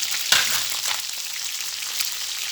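Steady bright sizzling of trout frying in hot oil, with a sharp clink near the start and faint crackles throughout.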